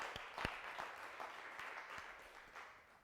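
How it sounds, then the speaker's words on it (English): Applause from an audience at a data-sharing members meetup in Leeds, a dense, steady patter of many hands clapping for about three seconds, moderately distant and fading slightly toward the end. "I'm going to ask you all to give that a round of applause"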